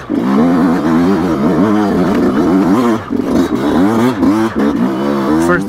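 A 2020 Yamaha YZ125X two-stroke dirt bike engine revs hard through a difficult off-road section, loud and close with constantly rising and falling pitch and brief throttle chops, over faint scrapes and clatter.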